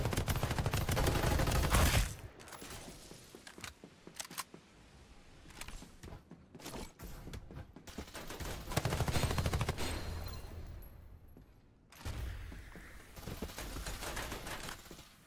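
Gunfire from the online shooter game Farlight 84: loud, rapid bursts of automatic fire with short gaps between volleys, clustered near the start and again in the middle and end, with no talking.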